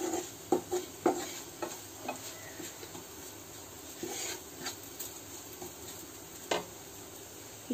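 Food frying in a pan, a low, steady sizzle with scattered clicks and knocks of a utensil stirring against the metal, fairly faint and without speech.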